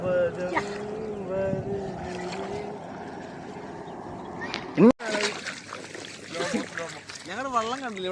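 Water sloshes and splashes around a small wooden country boat as it sinks, with a sudden gurgling plunge midway, as people talk and exclaim over it.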